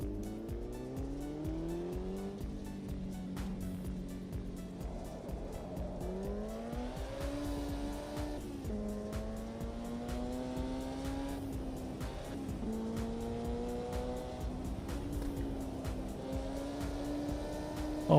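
In a sim racing game, a race car drives the historic Nordschleife. The engine whines steadily through gear changes, rising and dropping in pitch, with occasional tire squeal, and runs continuously at moderate level.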